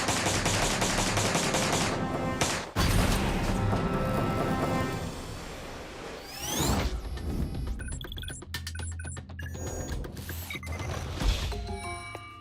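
Submachine gun fire in bursts: rapid loud cracks and rattling automatic volleys, broken by a sharp gap and then metallic mechanical clatter and clicks toward the end.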